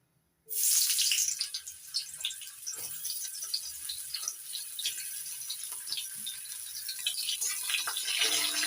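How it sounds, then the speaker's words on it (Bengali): Steamed cauliflower florets hit hot mustard oil in a kadai, setting off a sudden loud, steady sizzle that hisses on without pause. "তেল গরম হয়ে গেছে এবার ভাপিয়ে নেওয়া ফুলকপিগুলো ভেজে নিচ্ছি"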